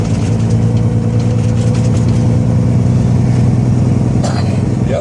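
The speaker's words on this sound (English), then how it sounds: "You'll see a different kind of hop. It's like the whole truck is bouncing." Loaded truck rolling downhill over bumps, its engine a steady loud rumble with a low, even drone and faint knocks as it jolts along.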